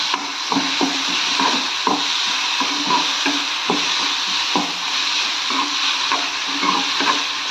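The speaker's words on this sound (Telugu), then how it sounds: "టమోటాలు వేసానండి. కొంచెం ఆయిల్లో పెట్టుకుంటాను." Tomatoes frying in a little oil in a pan give a steady close sizzle, broken by regular soft scraping knocks as they are stirred.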